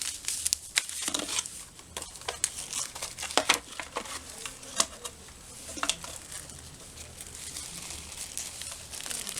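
Small plastic bags from a 2018 South African SERAC 24-hour deluxe military ration pack crinkle and rustle up close in irregular bursts, sharp crackles scattered over quiet handling, with no voices.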